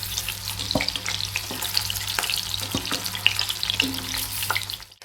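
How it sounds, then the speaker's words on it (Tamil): Onions fry in a hot pan over low heat for a North Indian style onion masala sabzi, a steady dense sizzle with occasional scraping stirs, close and continuous until it cuts off at the end. "பாருங்கள், வெங்காயத்தை நம்ம வறுத்து எடுத்துட்டோம்."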